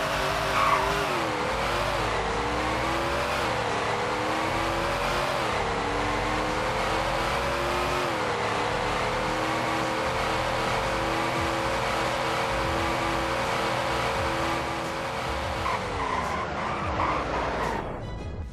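A 2021 Western Motors Mamba or Taipan in a video game, tested for acceleration and braking: a steady engine drone with tire squeal that holds and rises, then drops away near the end.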